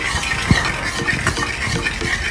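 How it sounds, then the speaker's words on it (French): Burnt chili sauce being stirred with red oil for Ivorian foufou, close scraping and mixing strokes over a light sizzle, one sharp knock against the pot near the start, no talking. "On va y ajouter de l'huile rouge comme ça. Voilà. On va mélanger."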